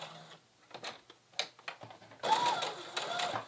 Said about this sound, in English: I'm just carefully stitching it on.